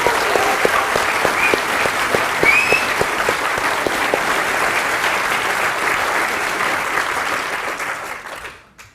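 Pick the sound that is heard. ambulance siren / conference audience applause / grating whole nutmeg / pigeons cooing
conference audience applause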